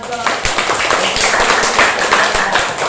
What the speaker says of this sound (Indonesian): Tepuk tangan pada temannya.